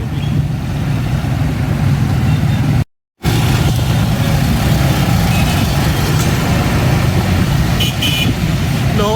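Congested road traffic on Ferozepur Road in Lahore, with a steady dense rumble of idling and creeping cars, trucks and motorbikes close by and an occasional horn toot, continuous throughout apart from one brief gap.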